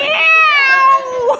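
A woman imitates a cat's meow with her voice, one clear drawn-out meow sliding downward in pitch, close and loud.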